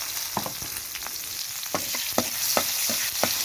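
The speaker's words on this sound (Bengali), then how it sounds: "পেঁয়াজটা হালকা করে ভেজে নেব।" Chopped onion sizzles in hot oil in a pan after fish has been fried, a steady close crackle broken by scraping stirs at a regular pace, with no talking.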